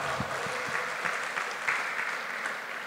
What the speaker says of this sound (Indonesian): Sekali lagi aplaus untuk Pak Karsono.